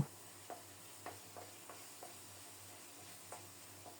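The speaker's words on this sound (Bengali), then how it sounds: "সব মিলিয়ে নেড়ে চেড়ে খুব সুন্দর মতো মশলাটাকে কষিয়ে নেব।" Spice masala for a rohu fish curry, made with ground green chilli, being stirred and fried in a pan, with a low, steady sizzle and a few soft, scraping stirs spaced apart.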